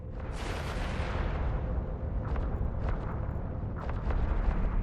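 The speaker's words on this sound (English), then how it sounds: "We're taking heavy fire, Commander Ferris." A ship taking heavy fire in the space game EVE Online, a loud continuous rumbling barrage with a big rushing blast at the start and a few sharper impacts cutting through the roar.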